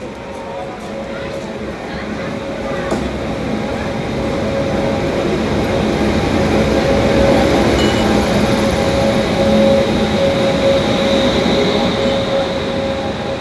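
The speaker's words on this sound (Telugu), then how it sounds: "అదిగోండి మన బండి అయితే వచ్చేస్తుంది" The Santragachi–Tirupati Weekly Superfast Express rolls into a crowded Indian railway platform with a loud, continuous rumble of wheels and carriages that builds and holds, plus a faint squeal, while voices chatter throughout.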